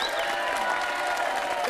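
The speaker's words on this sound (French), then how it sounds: "Je vous demande de l'applaudir très chaleureusement." A TV studio audience claps warmly, a continuous broad patter of many hands that holds steady at moderate loudness throughout, with a faint hint of crowd noise beneath.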